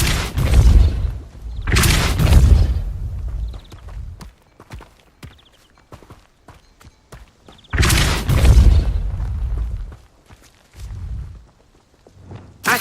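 Depulso spell from Hogwarts Legacy, a game, casting twice as loud forceful whooshing blasts with booming low rumble, each about two seconds, separated by a stretch of faint scattered ticks and footsteps.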